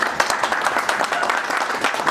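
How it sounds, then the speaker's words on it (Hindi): An audience claps throughout at an acting workshop, a dense, even burst of applause with no voices over it. "सो इनके लिए भी ज़रा तालियां हो जाए।"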